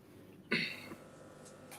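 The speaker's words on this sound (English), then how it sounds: "Just about your cough, mate" A single short cough bursts out close by, followed by a fainter second cough, then quiet room noise.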